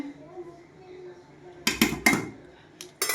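Cooked food is tipped into a cooking pot, a few loud clanking metallic knocks bunched near the end after quiet kitchen background.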